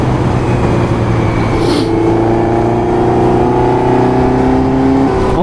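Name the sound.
motorcycle engine revving after carburetor tuning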